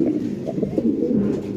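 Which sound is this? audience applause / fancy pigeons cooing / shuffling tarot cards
fancy pigeons cooing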